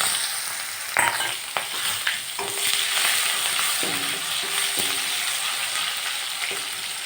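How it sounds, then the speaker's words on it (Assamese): Sliced onions hit hot oil in a pan already holding cumin seeds, setting off a steady broadband sizzle with occasional stirring clatters, close and continuous for the whole stretch. "আৰু পিঁয়াজ দিছোঁ এতিয়া"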